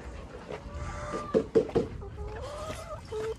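Lohmann hens cluck in a backyard coop, with several close, short clucks and soft vocalizations over low background noise, and a person speaking nearby.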